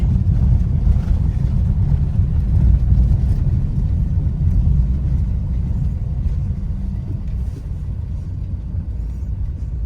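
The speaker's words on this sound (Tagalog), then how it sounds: "Tapos dadami pang tricycle, kaya masikip din dyan paglabasan." Busy street traffic thick with tricycles near a crowded exit, a steady low rumble of engines that holds at moderate loudness throughout with no distinct passes standing out.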